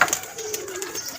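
Pigeons coo briefly at a pigeon club, a soft, fairly faint murmur over a quiet background.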